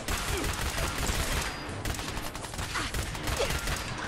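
Sustained machine gun fire in the Fallout 4 video game, a dense, loud continuous burst of rapid shots with no pauses over several seconds.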